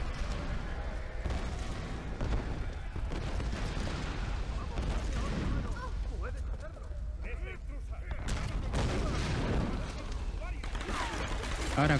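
Bursts of gunfire and heavy booming blasts rattle on and off amid a noisy Tomb Raider battle, with someone talking over the shots.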